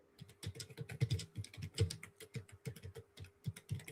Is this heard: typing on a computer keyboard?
yes